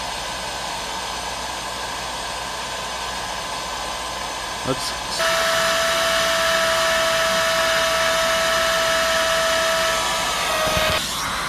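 A Nilfisk HDS1005 vacuum with a damaged body runs on high for an airflow test, starting partway through as a loud, steady whine with a sustained tone that holds until a brief knock near the end.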